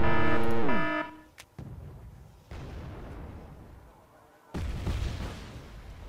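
Artillery fire in Wargame Red Dragon: a tonal whine at the start, then several heavy booms spaced a second or two apart, each trailing into a low rumble.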